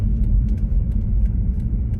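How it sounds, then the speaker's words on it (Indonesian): A car follows close behind on a road, its engine giving a continuous low rumble with faint ticking clicks on top. "di belakang aku nih ada mobil nih soalnya"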